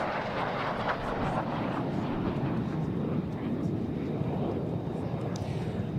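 Blue Angels jets fly by at the NAS Oceana air show, a dense, loud, steady engine roar that fills the whole stretch without a break.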